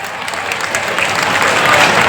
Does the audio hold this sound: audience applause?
yes